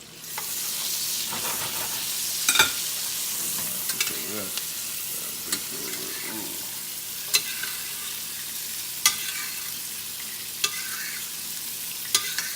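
Meat fat fries and caramelizes in a hot pan, giving a continuous close sizzle with occasional sharp pops and spatters and some stirring, and no one speaks.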